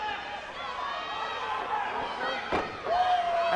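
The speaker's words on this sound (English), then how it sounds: "a shot right to the side of the head by that cowbell" A cowbell strikes a wrestler on the side of the head during a televised pro wrestling match, one sharp slam about midway, over steady crowd noise and commentary.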